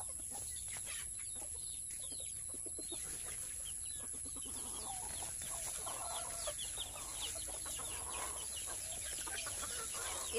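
Chickens clucking steadily near a rural feeding spot, where young chicks are given starter feed; overlapping cackles and calls continue over a constant high hiss for the whole stretch.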